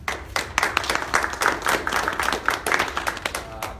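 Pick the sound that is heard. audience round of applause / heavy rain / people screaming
audience round of applause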